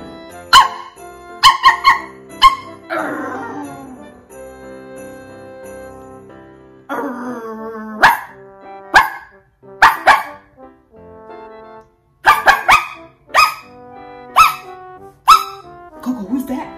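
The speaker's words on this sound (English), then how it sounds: "they be barking off the chain" Several dogs in a house barking loudly and close in repeated sharp bursts, mixed with yips and squeaky whines, with pauses between volleys.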